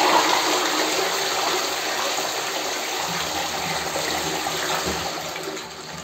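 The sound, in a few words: toilet flushing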